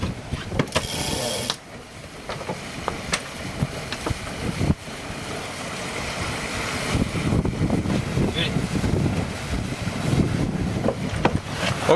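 Gusty wind buffeting a sailboat out on Nanaimo Harbor in February, a rough, rushing roar that swells and dips, with occasional knocks and creaks from the boat.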